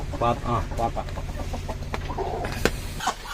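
Native chickens cluck and a native rooster calls close by in a busy poultry farmyard, with people talking over the birds throughout.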